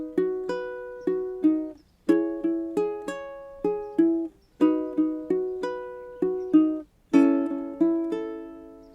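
Ukulele picking a chord progression from a song note by note in steady repeating phrases, bright plucked tones ringing over nine seconds with brief gaps between patterns, close and clear with no speech.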